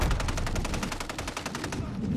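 Rapid automatic gunfire in a shooter video game, a dense string of evenly spaced loud shots that rattles on for about two seconds before thinning out.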